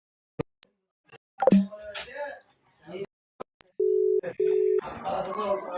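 A phone call gives two steady electronic tone beeps in a row, with a short gap between them, after some scattered clicks and brief speech; voices continue faintly afterward.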